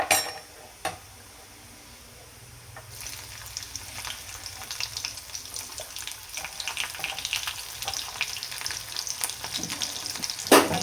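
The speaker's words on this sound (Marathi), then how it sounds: "तेल मस्त गरम झाले, थोडेसे जिरे घालते आणि लगेच लसूण घालते." Cumin and garlic hit hot oil in a home kitchen for a potato curry tempering: after a quiet start, a loud, steady crackling sizzle fills the rest, with a few utensil clinks and no talking.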